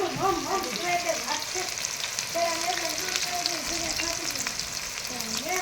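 Onions fry in hot oil as the base for a masala, a steady crackling sizzle with soft stirring scrapes and faint voices murmuring in the background.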